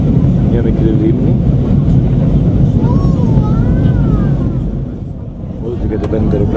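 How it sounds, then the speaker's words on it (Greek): Inside an airliner cabin descending toward Paris in rainy weather, a loud, steady engine and air roar fills the space, dipping briefly near the end, while a voice talks over it. "Όλο την κατεβαίνει το αεροπλάνο μας προς το Παρίσι."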